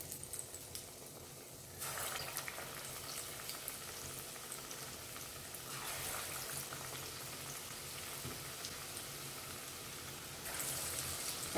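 Batter-coated potato vadas, about six at a time, deep frying in hot oil, giving a steady close bubbling sizzle with brief louder surges as more pieces drop in.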